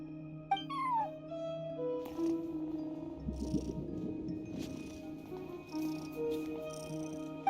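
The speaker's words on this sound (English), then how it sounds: "cat watching over the front desk. Excuse meow?" A cat in the video game Genshin Impact gives a few soft meows near the start, then purrs quietly under steady game background music.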